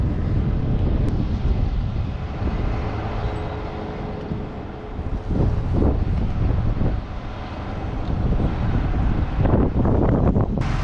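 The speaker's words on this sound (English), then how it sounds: "it's windy up here" Wind roars high up in a tall deodar tree during its removal, a loud, steady buffeting gust with microphone rumble and occasional surges, no talking.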